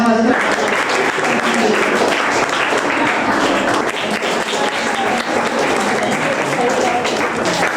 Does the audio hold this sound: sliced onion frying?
no